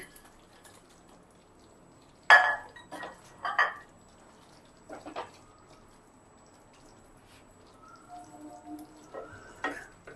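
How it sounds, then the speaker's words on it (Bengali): Pieces of fish for a Noorjahani fish curry set into a pan with a few sharp splats and short sizzling bursts, followed by quiet gaps and faint clinks of utensils. "এবার আমি মাছগুলো অ্যাড করে দিচ্ছি।"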